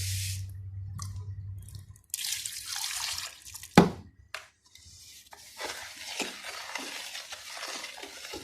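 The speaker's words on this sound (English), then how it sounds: "we'll start adding the water in small quantities and continue to stir in one direction" Liquid soap base being stirred by hand with small additions of water, giving soft wet squishing and dripping sounds with brief clinks, close up and fairly quiet, no talking.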